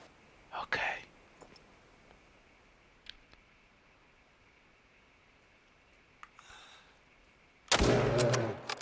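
A single loud rifle shot cracks out near the end, fired at a grizzly bear on a hillside hunt, following quiet rustling and faint whispered talk.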